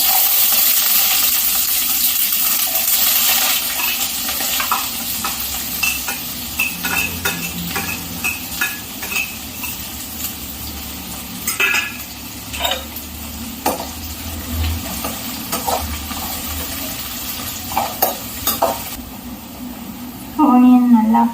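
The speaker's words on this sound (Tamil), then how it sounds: "Onion நல்லா ஃப்ரை ஆகிடுச்சு." Onions fry in a pan with a steady sizzle while a metal spoon stirs and scrapes against it in scattered clinks, a person talking over the cooking.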